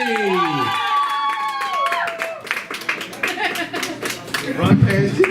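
Applause and cheering from a hometown crowd at a live South Jersey comedy show break out behind a comic's spoken introduction, with clapping building and a burst of crowd noise near the end.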